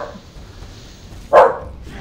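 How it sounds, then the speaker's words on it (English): A pet dog named Roxy, indoors, gives a single sharp bark, loud and close against a quiet room hum. "At some point during the recording, she will bark."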